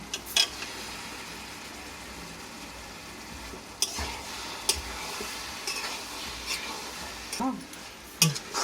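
Mutton and cabbage frying in a pan, a steady soft sizzle with occasional stirring scrapes and clinks of a utensil against the pan, fairly close and moderate in level, with no talk.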